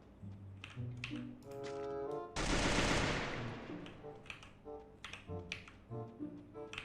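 Gunfire from the game Free Fire, with a sustained loud burst of automatic shots in the middle and scattered sharp shots and game sound effects before and after.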